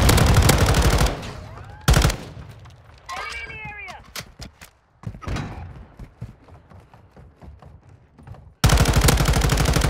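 The M13C rifle in Call of Duty, fitted for maximum recoil, fires in loud bursts at the start and end, with brief shots and game effects between them.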